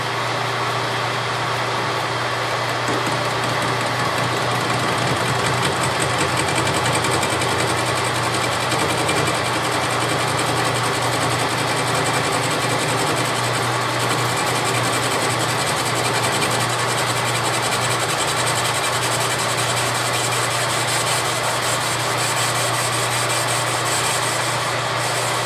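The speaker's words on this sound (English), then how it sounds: "we'll start by taking a 50 thousandths cut." A Honda D16 connecting rod being cut on a machine tool, a steady, loud mechanical whir and hum that runs unbroken throughout with no pauses and no talking.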